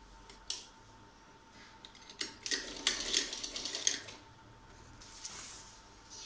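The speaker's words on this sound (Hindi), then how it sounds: "मेरे पास सिलाई मशीन है तो मैं सिलाई मशीन से करती हूँ" Sewing machine stitching fabric for a homemade grow bag, a rapid mechanical whirring burst in the middle with lighter clicks before and after, no voices.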